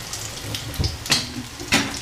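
Water splashing and running from a tap in short bursts, with a few clinks and hiss-like gushes, close by and without talk.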